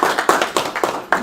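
One person clapping alone at a board meeting, a handful of sharp, unevenly spaced claps over about a second, close and fairly loud in a quiet room.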